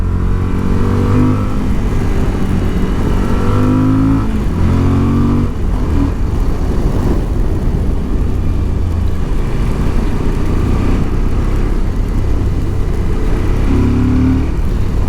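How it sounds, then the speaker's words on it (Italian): A motorcycle engine revs repeatedly, rising and falling in pitch, loud and steady throughout with a continuous rumbling drone underneath. "Adesso vi faccio sentire qualche secondo soltanto il motore."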